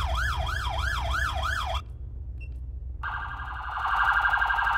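A video game police siren wails, sweeping up and down in rapid cycles, cuts off briefly, then returns as a steady high electronic tone, loud and close.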